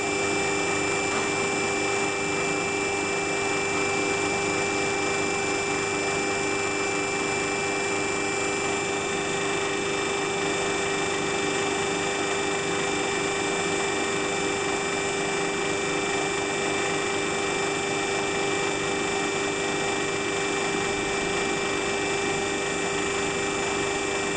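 Electric motor running steadily in a closed-loop lab generator setup, a constant tonal whine with a fixed buzzing hum, unchanging in level for the whole stretch and with no voices over it.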